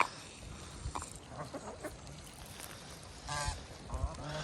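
Geese honk a few times at a spring-fed farm pond, short calls scattered over faint background noise with some low thumps, fairly quiet and without talk.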